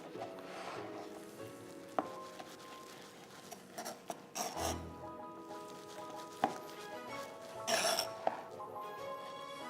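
A knife saws and scrapes through grilled rib meat on a board, a soft rasping with scattered sharp clicks and taps, close and fairly quiet, no talking.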